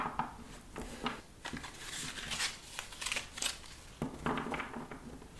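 A tarot card deck being shuffled by hand in a quiet room, giving soft papery crinkles and riffling bursts that come and go close to the listener.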